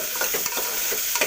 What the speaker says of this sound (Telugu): ఆనియన్స్ వేసుకొని బాగా కలిపేసుకోవాలి. బాగా కలుపుకోవాలి హై ఫ్లేమ్ దాకా.